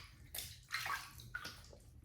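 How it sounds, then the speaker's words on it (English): Water splashes in a few brief, close bursts at a sink as a face is wetted before a shave with a double-edge razor. "I'm gonna wet the face here."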